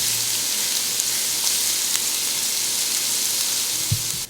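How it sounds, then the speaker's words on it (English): Onions sauté in a pan with a low, steady sizzling hiss, a few faint pops and a brief knock near the end before it cuts off. "just saute this for about 5 to 7 minutes until the onions are lightly golden"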